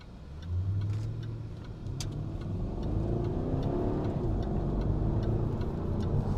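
Jaguar XK V8 engine revving and accelerating up close, a deep steady growl that builds and holds loud with a rising note throughout.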